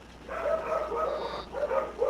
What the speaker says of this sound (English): I hear the puppers. Yes, they are barking.